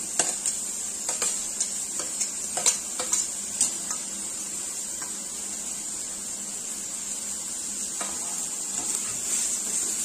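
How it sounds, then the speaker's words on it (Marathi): A spiced sprout curry mixture sizzles steadily in a pan while a spoon scrapes and taps the metal in irregular bursts of close clinks, with a constant hiss of frying underneath. "व्यवस्थित असं परतून घ्यायचे."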